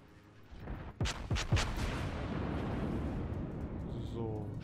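Naval gunfire in the video game World of Warships: several heavy booms go off in quick succession, followed by a long rumbling roar of battle noise and a few lighter electronic tones toward the end.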